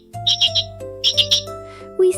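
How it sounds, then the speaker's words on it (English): Sparrows chirping in a folktale sound effect: a few quick bright chirp bursts in two short clusters over a steady low musical drone, with a final brief tone at the end. "she heard a rustling sound. Then chirps. Then wings. Sparrows."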